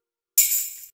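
A bright, crisp clap layer added over the claps of a remix beat, heard alone as one sharp hit with a short, splashy tail.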